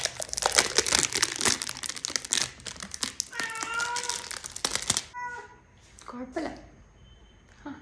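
A plastic wrapper is torn and peeled off a lint roller, giving dense close crinkling and crackling for about five seconds, then quieter scattered rustles with brief speech-like tones.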